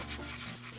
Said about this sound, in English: All that sanding and smoothing.